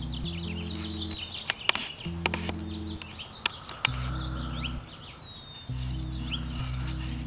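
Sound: birds chirping

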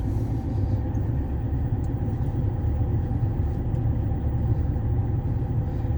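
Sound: car accelerating and shifting into second gear

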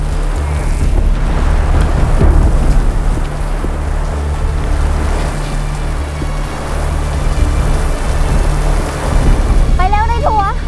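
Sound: rain falling

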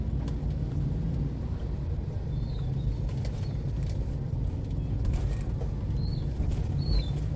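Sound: car rocking and creaking over damaged road

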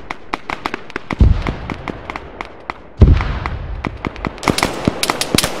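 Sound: bombardment explosions in the video game Arma 3

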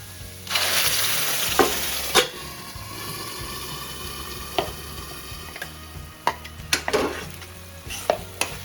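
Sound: onion and chutney masala frying in a pan

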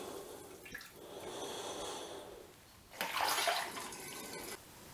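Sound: elderflower strawberry wine liquid strained through sieve into demijohn

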